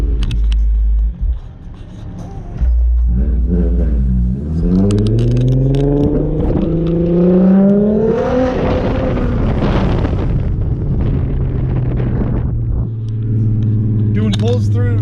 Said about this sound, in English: Doing pulls through the middle of downtown.